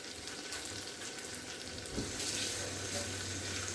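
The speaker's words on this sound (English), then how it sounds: "I like to rinse off my mushrooms." Mushrooms being rinsed under a running kitchen tap while making cabbage, a steady hiss of flowing water that swells slightly louder partway through, with faint splashing and no talk.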